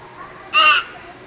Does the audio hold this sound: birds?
yes